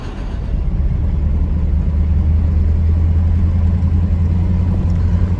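Vehicles on a rural road in Saskatchewan, heard as a loud, steady low engine rumble that sits close and continuous throughout.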